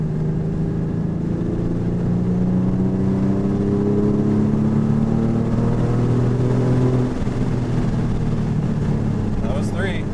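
A Porsche 911 with a fully rebuilt engine pulls hard at half throttle, its engine note rising steadily in pitch, then dropping with a gear change and climbing again, heard from inside the car with a little talk.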